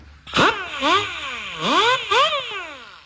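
Air-powered whiz wheel driven by a shop air compressor, whining up and down in repeated rising and falling pulses, loud and close, each burst spinning up then dropping off as the air supply sags.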